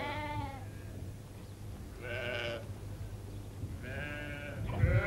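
Sheep bleating on an intensive farm in the Saudi Arabian desert, several separate wavering bleats from one or more animals over a steady low hum, fairly close with no talking.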